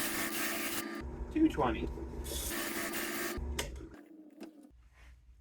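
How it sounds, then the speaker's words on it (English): Steady rasping of 80-grit sandpaper held against a round wooden piece spinning at low speed in a drill press, a dense continuous scrape that stops and restarts, with a brief spoken word partway through. "Take your sanding paper, whatever you have available, this is 80 grit,"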